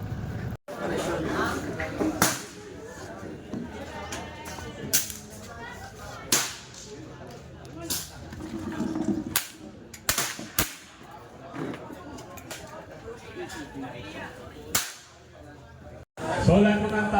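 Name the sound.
air guns firing at a competition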